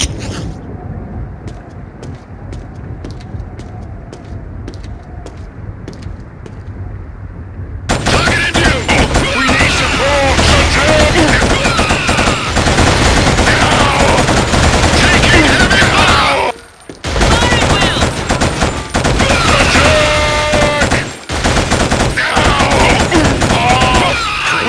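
Heavy gunfire from the Killzone video game: a sparse run of separate shots, then a loud, dense barrage of rapid automatic fire with a brief break in the middle, all close and continuous.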